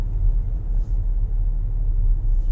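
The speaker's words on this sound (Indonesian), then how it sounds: "Ini gua gaspol, dia baru tarik." Toyota Kijang Innova 2.0 V Luxury automatic from 2015 accelerating hard at full throttle, a steady low engine rumble and drone heard from inside the car, continuous and fairly loud with no talk.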